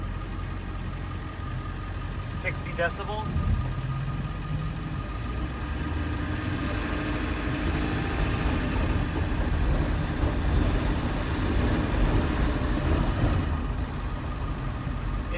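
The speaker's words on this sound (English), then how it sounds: "driving with the new exhaust system in place. This is at idle." A 2002 Ford 7.3 Powerstroke diesel idles through a new Diamond Eye Big Dog muffler and Upower resonator exhaust, a steady low rumble with injector clatter, continuous and fairly near, with a short burst of brighter noise early on.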